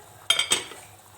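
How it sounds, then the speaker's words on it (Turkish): A metal lid closing over a cooking pot of garlic pilaf, two quick clinks close together and then quiet. "Şimdi tenceremin kapağını kapatıyorum"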